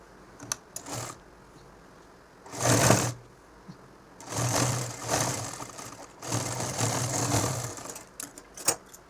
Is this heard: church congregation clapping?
no